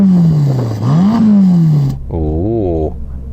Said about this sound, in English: Finally then, let's have a listen to that Roma.